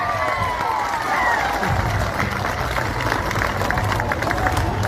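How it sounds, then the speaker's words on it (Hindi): Crowd at an election campaign rally in Dibrugarh, a steady roar of clapping mixed with cheering and general crowd noise, loud and continuous throughout with babble of voices underneath. "ताली बजाए रैली के लिए।"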